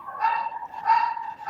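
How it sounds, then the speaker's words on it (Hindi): A dog yelping or whining in two short drawn-out bursts somewhere nearby in a home during a live session, fairly loud with no talk over it. "कोई कुत्ता भौंक रहा है उसको चुप कराएं।"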